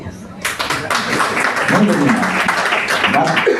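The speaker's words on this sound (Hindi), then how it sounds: "बजाओ ना ताली" Lecture audience at a community talk in Nagpur breaking into clapping, a dense burst of many hands starting abruptly and continuing loudly, with voices mixed in underneath.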